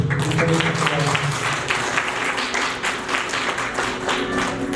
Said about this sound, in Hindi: इनके लिए ताली बजाओ फिर जोर से।